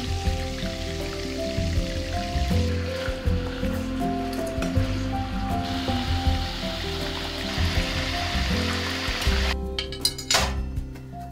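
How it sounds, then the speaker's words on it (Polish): Wild boar meat for goulash sizzles and crackles in strongly heated oil, a dense, close, continuous frying hiss with occasional clinks of pots and utensils toward the end. "mięso trzeba smażyć na mocno rozgrzanym oleju"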